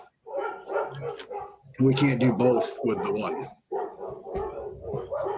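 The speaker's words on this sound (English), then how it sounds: "Apologies, my dogs are barking." Several dogs barking indoors in short, loud bursts, overlapping a person talking nearby, with a pause before more barks near the end.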